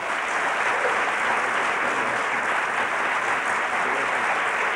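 A lecture audience applauds to welcome Professor Cornel West, a dense, steady wash of clapping from many hands that stays loud and even throughout.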